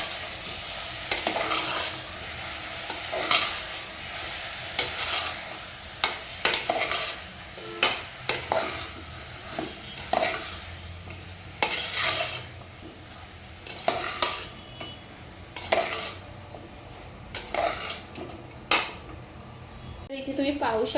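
Chicken gravy with tomatoes being stirred in a pan, a spoon scraping and knocking against metal in repeated bursts over a low sizzle, close and clear, with occasional speech.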